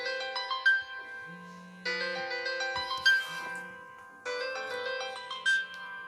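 A phone rings with a melodic electronic ringtone, three repeated bursts of chiming tones with short pauses between them, clear and close with no talking over it.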